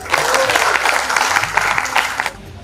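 An audience at a poets' gathering in Ayodhya claps to welcome a poet to the stage, a dense burst of close applause lasting a couple of seconds before quickly dying away.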